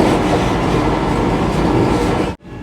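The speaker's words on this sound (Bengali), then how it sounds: "আর ট্রেনও খুর্দা রোড ছেড়ে দিল" The Puri–Howrah Vande Bharat Express pulls out of Khurda Road, heard from inside as a loud, steady rumble of wheels and carriage that cuts off abruptly just before the end.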